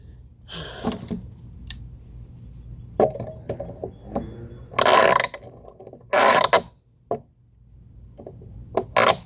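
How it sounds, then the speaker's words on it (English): A rusty old ratchet clicking while old flooring is pulled up, bursts of metallic ratcheting and scraping broken by short knocks and pauses, close and uneven. "Y'all hear how ratchet and old these things are? They're so rusted and whatever."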